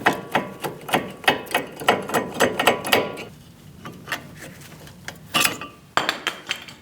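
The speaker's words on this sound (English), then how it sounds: "I'm using a screwdriver to get it free." A screwdriver prying a stuck brake component free on a 2016-2019 Chevrolet Cruze front brake assembly, giving a rapid series of sharp metallic clinks and scrapes, loud and close, then a few more isolated knocks.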